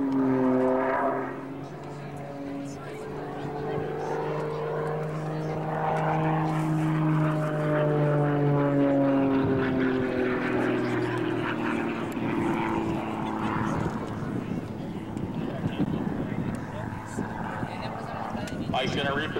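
An aerobatic airplane engine drones at the 2003 Kern County Airshow, its pitch sliding and swelling as the aircraft maneuvers at a moderate distance. A voice talks over it.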